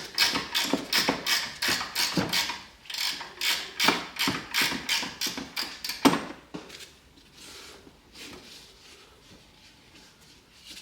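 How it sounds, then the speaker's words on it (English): A ratcheting wrench loosens a nut on a Land Rover LR3 during air suspension work. Loud, close bursts of rhythmic ratchet clicks come in quick strokes, then fade to faint, sparse clicking. "A ratcheting wrench makes it so much easier."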